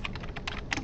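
Quick bursts of keystrokes on a computer keyboard while writing code, close and clear, about eight light taps in under a second with no voices.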